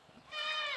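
A goat on a farm gives a single short bleat, a wavering cry of under a second that rises out of faint background sound, with no talking over it.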